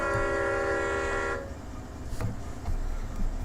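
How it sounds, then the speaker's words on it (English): A train horn in Run8 Train Simulator V3 sounds a long, steady, loud blast that cuts off abruptly, followed by low rumbling rail yard noise with a few faint clanks. "That horn sounds a little better."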